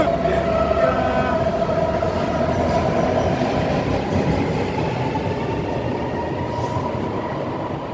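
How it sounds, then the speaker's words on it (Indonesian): A train pulls away from a platform in Germany, bound for Erding, with a loud continuous rolling roar, faint metallic squeals and rail rumble that slowly ease off. "Itu kereta ke Erding."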